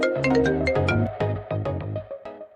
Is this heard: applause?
no